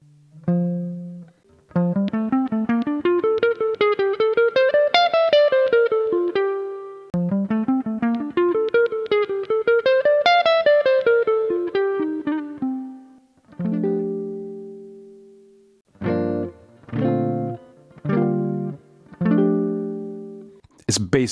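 Jazz guitar plays a bebop Dorian line from F: two quick runs of single notes climbing and descending, then several short separate plucked notes and chords with gaps between them, close-miked and alone.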